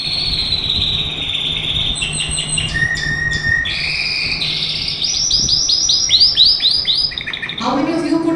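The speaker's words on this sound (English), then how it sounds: "We are playing chirping of birds" Recorded birdsong plays during a guided meditation session: varied bright chirps, trills and whistled phrases from several birds over a faint insect-like buzz and low hum, with no talking.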